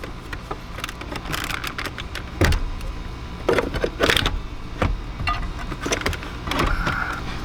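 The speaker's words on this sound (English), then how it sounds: "we can work the pry bar around the bezel of the head unit in order to pull this thing out" Plastic head unit bezel on a 2nd gen Toyota Tacoma dashboard being pried loose with a pry bar, giving a series of close, sharp cracks and snaps amid scraping and creaking plastic, with no talking.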